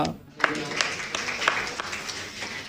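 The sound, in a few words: congregation clapping during church service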